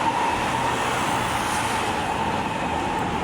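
An MRT commuter train passes close by with a steady, loud rumble and rolling noise that holds evenly throughout, with no talk over it.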